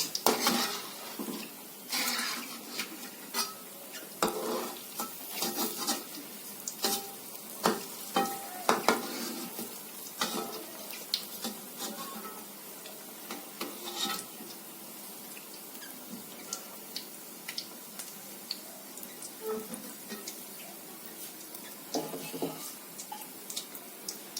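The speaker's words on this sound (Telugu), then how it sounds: "ఇవి ఇప్పుడు వేగుతున్నాయి బొండాలు ఇవి గోల్డెన్ బ్రౌన్ వచ్చేలాగా వేయించుకొని మనం తీసుకోవాలి" Aloo and green pea bondas deep fry in hot oil, a busy bubbling sizzle with frequent stirring, scraping and clinks of a metal spoon against the pan, close by throughout.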